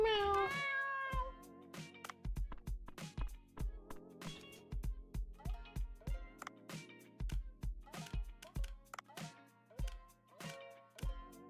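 A cat in a video game meows several times at the start, followed by a long series of sharp percussive clicks and taps from the game, fairly quiet overall.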